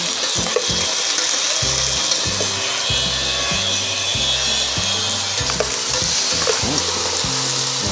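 Garlic and onion fry in oil in a pan in a rural Filipino kitchen, giving a loud constant sizzle under rhythmic wooden scraping strokes of a spatula, with no voices.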